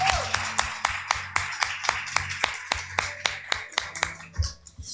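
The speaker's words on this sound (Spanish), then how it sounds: "Dale fuertes aplausos" A church congregation claps at a steady, even beat, loud and close, with a low hum from the worship space running under the rhythmic hand claps.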